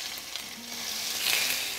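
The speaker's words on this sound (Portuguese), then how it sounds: "Então, nós vamos selar o salmão." Salmon sears in olive oil in a nonstick pan, giving a steady, close, loud hiss and crackle of frying with no talking.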